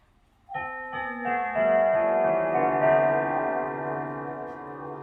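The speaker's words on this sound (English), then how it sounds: "So we're going to go for the Whittington chime, 1/4 past 1/4 of the chime." A grandfather clock rings out its Whittington chime quarter-hour sequence, several rich bell tones in sequence that ring on and slowly fade, clear and close with no talking.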